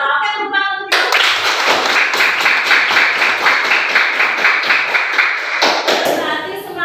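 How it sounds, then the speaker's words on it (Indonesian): A classroom of students claps for their teacher in one quick burst of brisk, close applause lasting several seconds, with a voice speaking just before and just after. "Oke, tepuk tangan untuk ibu."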